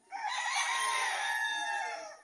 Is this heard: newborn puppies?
no